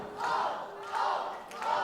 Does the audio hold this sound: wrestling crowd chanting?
yes